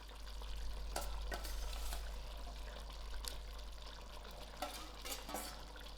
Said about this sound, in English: I'm going to throw in my fried bhindi